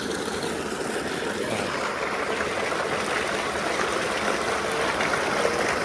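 Water gushing from a monoblock motor pump onto farm fields, a steady rushing, splashing flow with a faint mechanical hum underneath, loud and continuous.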